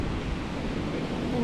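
Ocean surf on a Costa Rica beach, a steady broadband wash of waves rolling in with wind noise, even and continuous with no distinct breaks.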